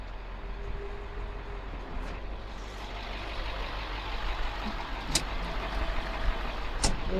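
A truck engine idles at a distance as a low, quiet rumble, steady with slight swells, while a few brief sharp clicks and knocks punctuate the background.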